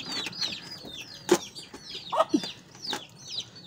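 Several clucks and short calls from a golden rooster sound close by, with high chirping birds twittering throughout in the background.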